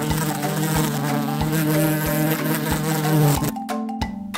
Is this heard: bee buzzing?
yes